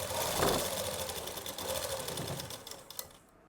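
A sewing machine runs a loose basting stitch along folded plazo fabric, humming with a fast, even mechanical rattle that fades out near the end.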